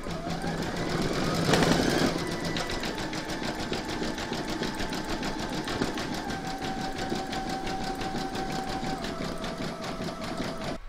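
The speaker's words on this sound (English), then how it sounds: "you're now going to stitch round number 12, and that's going to run up to this corner and then zigzag around to here." A sewing machine zigzag stitches a round of a large square scallop placemat, its steady rapid needle chatter running continuously and close throughout, with a brief louder burst near the start.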